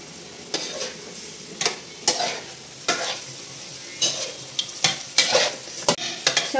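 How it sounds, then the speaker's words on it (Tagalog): A spoon stirs chicken tinola in a pot after fish sauce goes in, giving a loud close sizzle with repeated scraping and clanking strokes against the metal in irregular bursts and no talking. "Kapagtapos ng patis, halo na natin."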